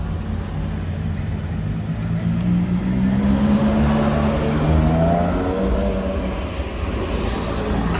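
An Aston Martin One-77 drives past on a street in Monaco, its engine note rising and swelling loud and close, then easing off as it moves away.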